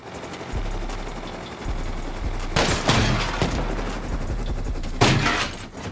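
An automated AK turret in the survival game Rust fires bursts of gunfire, sharp loud volleys around the middle and near the end, over a steady low in-game rumble.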